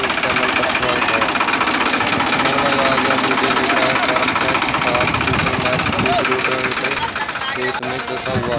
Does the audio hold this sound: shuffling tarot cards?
no